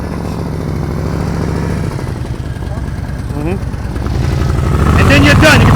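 A motorcycle engine runs at low throttle during slow-speed riding practice, a steady close rumble that climbs toward the end, with a voice speaking over it.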